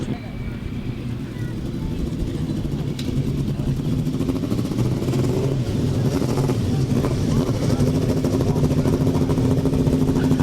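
Engines on 1000cc grasstrack sidecar outfits rumble and rev steadily at an international grasstrack meeting, with the sound building slightly as people talk over it nearby.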